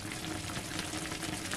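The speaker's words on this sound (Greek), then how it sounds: "Βλέπετε, βράζει, χαμηλώνω στο πιο χαμηλό και το αφήνω." A pot of bread dough simmering and boiling on the stove, a soft, dense bubbling and faint sizzling hiss that runs continuously at low volume without any voices.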